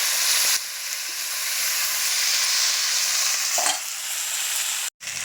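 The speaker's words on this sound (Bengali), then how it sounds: "আর বাদ বাকি শাকগুলো সব দিয়ে দিচ্ছি।" The rest of the spinach goes into a pan of hot oil, a continuous loud frying hiss with stirring scrapes, a pause near the start and a short break near the end.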